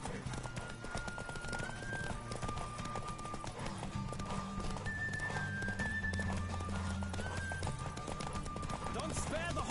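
Roach the horse gallops in The Witcher 3, a steady rapid clip-clop of hooves under game music with tonal whistling notes, while a voice speaks over the action.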